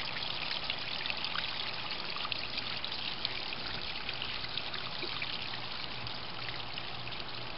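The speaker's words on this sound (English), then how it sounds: "Let's see how far away I can get and still hear the water." Water trickles and splashes steadily over the rocks of a homemade backyard waterfall, making a constant even burble that sounds fairly close, with no talk.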